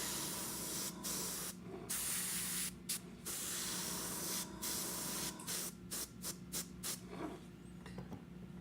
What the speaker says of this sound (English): Just a quick coat of black.